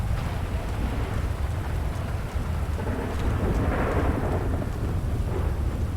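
A video game thunderstorm with steady heavy rain and deep rolling thunder, a constant loud wash throughout with no voices.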